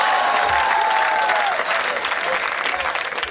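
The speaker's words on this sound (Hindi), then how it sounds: "एक बार माइक वाले के लिए जोरदार तालियां हो जाए।" A live crowd at a stage performance gives loud, sustained applause for the sound technician, a thick wash of clapping with a thin whistling tone sliding through its first half.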